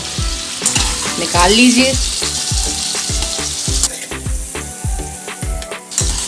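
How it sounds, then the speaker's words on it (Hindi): Bottle gourd sizzles as it shallow-fries in a little oil in a pan, with loud steady crackling and rhythmic scraping strokes of stirring, and someone speaks briefly. "थोड़े से ऑयल में फ्राई करेंगे, जिससे कि ज़्यादा ऑयल नहीं जाए।"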